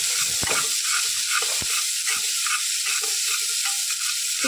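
Chopped onion sautés in hot ghee while being stirred toward a pink colour, giving a continuous bright sizzle with scattered soft scraping strokes.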